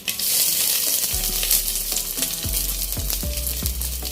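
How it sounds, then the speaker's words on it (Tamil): Sliced big onion hits hot oil right after mustard seeds splutter, the tempering for thoothuvalai rasam. A loud, steady sizzle with crackles and a few stirring knocks sounds up close. "இப்போ நல்லா கடுகு பொரிஞ்ச உடனே கொஞ்சம் பெரிய வெங்காயம் தாளிப்புக்காக."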